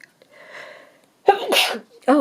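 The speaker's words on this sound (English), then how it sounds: "Sorry about that, sneezing now." A single sharp sneeze bursts out close and loud after a soft murmur of speech, followed immediately by more talking.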